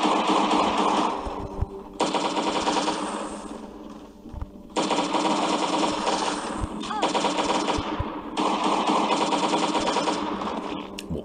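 Small-arms fire in the mobile survival game Last Day on Earth: loud, rapid automatic bursts lasting a couple of seconds each, separated by short pauses.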